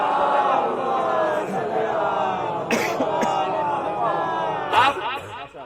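A crowd at a majlis gathering in Ashiq Nagar, Kheri, shouting back in response to the Nara-e-Haidari chant, a swell of many voices with coughs and throat clearing, mixed with speech and rising again near the end.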